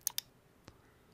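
A computer mouse clicks during Windows 11 keyboard settings navigation, with two quick faint clicks close together and a third a moment later in a quiet room.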